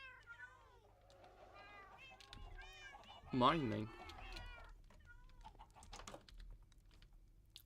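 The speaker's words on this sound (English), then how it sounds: "So many cats." Cats meowing in the Minecraft video game, several small high mews scattered across the clip with a louder cry in the middle, while a person speaks briefly over the game sounds.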